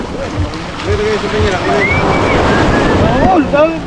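Rough ocean waves surging and crashing in a steady roar, with wind buffeting the microphone and people talking over it.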